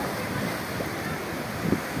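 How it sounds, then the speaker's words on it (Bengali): Sea waves at Digha beach at dawn wash against boulders in a continuous broad roar mixed with strong wind buffeting the microphone, steady and fairly loud. "সমুদ্রের জলে ঝাপটা বোল্ডারগুলোতে মেরে মেরে যাচ্ছে"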